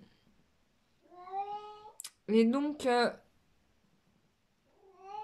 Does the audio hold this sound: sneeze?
no